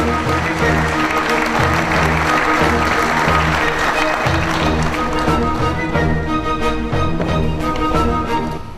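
Warm audience applause at a cocktail evening of an international finance summit as a governor is invited to the podium, dense sustained clapping filling the room with music beneath.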